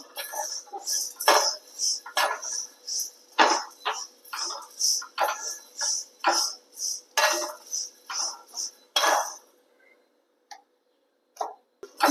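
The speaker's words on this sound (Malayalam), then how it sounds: "ഇതേപോലെ നന്നായിട്ട് വറുത്ത് കൊടുക്കുക" Spices being dry-roasted in a pan, a spatula scraping and clinking against the metal in a steady rhythm of short strokes, close and clear, tapering to a few scattered taps.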